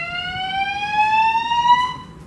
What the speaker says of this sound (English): I wonder if someone pulled the fire alarm